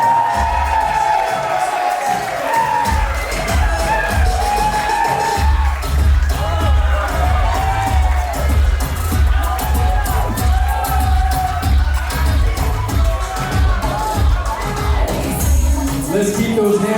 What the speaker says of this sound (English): Please make some noise for Caroline, Alyssa, and Logan.